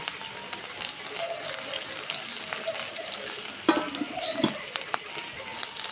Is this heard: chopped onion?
yes